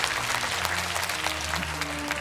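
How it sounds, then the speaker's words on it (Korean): Applause from a large assembly of 500 citizen representatives in a broadcast studio, a dense, continuous clapping sound over a low hum with faint tonal background underneath. "박수로 청하겠습니다."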